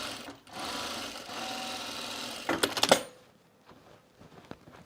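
Sewing machine stitching rows of a cropped jacket with gathers, a steady continuous run of needle chatter that breaks into a few sharp clicks and stops, followed by quiet handling noises.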